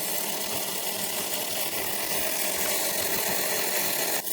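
Magnetic DC ion-drive disk spinning fast, a continuous high-pitched whirring hum with a steady, unbroken drone and a brief click at the very end.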